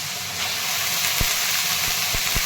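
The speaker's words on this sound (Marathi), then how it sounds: "इथं कढईमध्ये टाकलेलं आहे तेल तेलामध्ये थोडीशी जिरी टाकलेली आहे आणि लसूण आणि भिजलेली भिजत मुगाची डाळ टाकलेली आहे आता ही कांद्याची पात टाकून घेतो" Spring onion greens frying in hot oil in a wok with cumin, garlic and soaked moong dal, giving a steady, close hiss of sizzling with a few soft stirring knocks.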